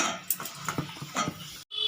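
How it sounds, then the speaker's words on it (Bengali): Patishapta batter made with jaggery water is whisked in a bowl, giving quick rhythmic scraping and tapping strokes close by, with a brief break near the end. "এরকমভাবে ভালো করে ফেটিয়ে নিতে হবে।"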